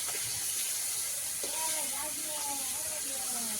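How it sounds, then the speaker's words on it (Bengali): Pieces of fish frying in batches in a wok give off a steady, dense sizzling hiss throughout, with a voice murmuring faintly in the background during the second half. "আর এখন কড়াইতে ভাজা চলছে"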